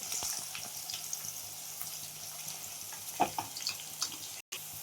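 Okra frying in plenty of oil in a pan, a steady broadband sizzle and crackle running throughout with a few sharper pops and a brief dropout near the end.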